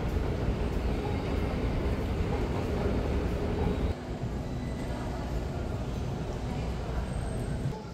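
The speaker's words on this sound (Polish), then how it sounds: "Metro jest czyste i tanie, ale na peronach jest tak duszno" Metro train at a station platform in Panama City, a steady loud rumble of the train running through the clip with a brief shift midway, and voices faintly under the noise.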